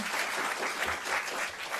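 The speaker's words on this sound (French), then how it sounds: "on peut les applaudir" Audience applause after a Yiddish song performance at a talk in France, a dense steady wash of many hands clapping, fairly loud and continuous throughout.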